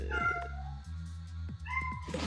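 A pet cat meows near a door, with two or three drawn-out, rising calls spread across a couple of seconds over a steady low background hum, fairly close.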